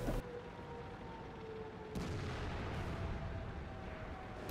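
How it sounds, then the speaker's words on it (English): Heavy tank cannon fire in World of Tanks on the Ruinberg On Fire map, with an Object 430 II shooting: a loud broadband boom near two seconds sits over continuous rumbling battle ambience, with a sharp crack at the very end. "that was a side turret shot on the E100"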